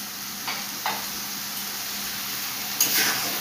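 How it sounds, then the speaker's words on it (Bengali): Vegetables for a Bengali vegetarian dish frying in a pan, a steady soft sizzle with a few brief scraping stirs of the spatula, close and moderately quiet, no talking. "এখন একটু ভাজা ভাজা করে নেব"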